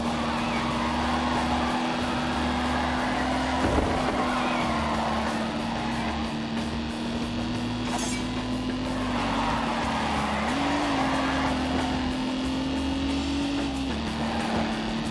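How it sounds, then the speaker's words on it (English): A car in The Grand Tour video game accelerates hard, its engine a loud, steady, rising whine that runs unbroken throughout, with the pitch climbing and dipping through gear changes. "Savage acceleration."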